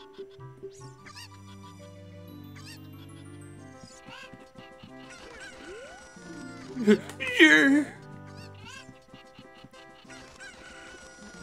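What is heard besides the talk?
chickens clucking in Ocarina of Time video game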